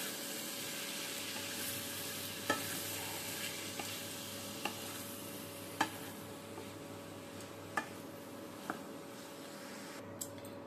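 Chopped bottle gourd frying in a pan while being stirred, a steady soft sizzle with a few sharp utensil clicks and scrapes spaced through it, close and moderately quiet, no talking.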